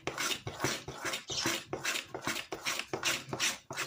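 Yogurt cake batter for an apple cake being stirred with a utensil in a bowl, a steady run of scraping, clinking strokes close up with no talking.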